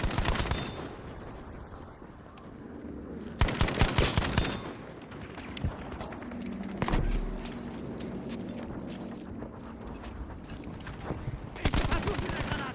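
Breda PG light machine gun firing in Battlefield V on an underground conquest map, with loud bursts of rapid automatic fire, a long sustained stretch, and other battle noise and footsteps between bursts.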